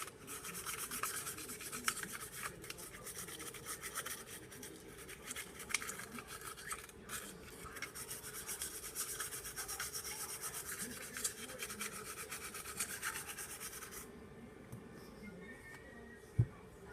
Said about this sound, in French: vous pouvez aussi prendre une brosse à dents, ou ici une brosse de nettoyage spéciale arme, et puis venir brosser